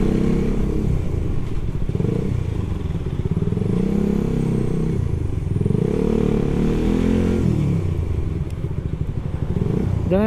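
A Suzuki GSX S150 motorcycle rides along with its engine droning close and loud, the pitch rising and falling as the throttle shifts, with some clatter and road noise and no speech.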